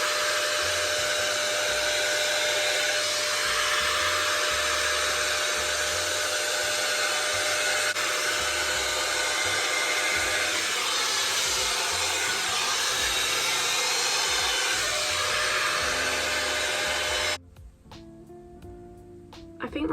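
A Dyson dupe hair styler blows continuously as hair is dried, a loud steady whooshing hiss with slight rubbing variations, cutting off abruptly near the end.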